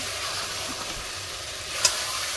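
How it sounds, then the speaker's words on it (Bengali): Potatoes frying with biryani masala in a pan, giving a steady soft sizzle with a brief scrape of stirring near the end. "আলুটাকে একেবারে এর সাথেই কষে নিচ্ছি"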